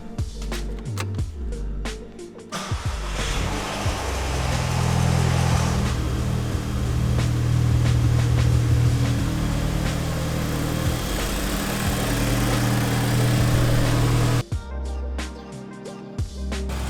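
A repaired Volkswagen Golf GTI engine fires up after its spark plugs are refitted, then runs with a steady, loud idle and some revving. Brief clatter comes at the start and end, and nobody speaks.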